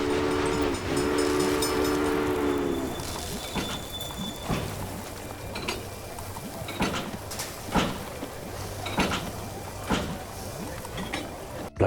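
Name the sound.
train sound effects from a video game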